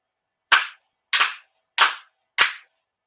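Four sharp ritual hand claps at a prayer gathering, evenly spaced about two-thirds of a second apart, loud and close with silence between each clap.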